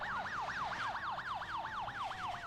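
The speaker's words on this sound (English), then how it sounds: "The ambulance should really be getting some priority there, you'd think." Ambulance siren from the city-building game SimCity 2013, a loud, steady rising-and-falling wail repeating about four times a second, heard alone without talk.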